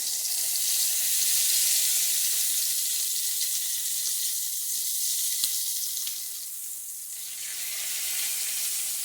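Bacon sizzles steadily in a pan on a stovetop, a close, continuous hissing fry that dips slightly near the end.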